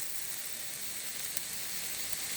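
Raw meat, about 2 kg, hisses steadily in a hot pan, a dense, even sizzle that holds at a constant level with no talk over it.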